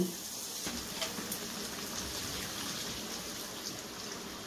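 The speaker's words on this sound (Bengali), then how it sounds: "এটা খুব ভালো করে মিক্সড করে নিয়ে তারপর আমি এর মধ্যে দিয়ে দেবো জল।" Water poured into a pot of fully cooked, mashed dal, a steady rushing splash that runs unbroken from start to finish with no talking.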